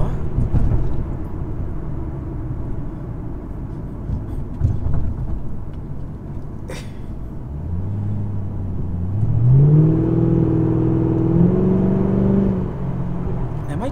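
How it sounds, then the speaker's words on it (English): A 2006 Mustang GT fitted with MSD Blaster coils and Champion 7989 spark plugs drives along a road, its engine note rising in pitch as it accelerates through several gear changes, heard from inside the car with no talk. "I'm barely putting my foot down and the car is accelerating"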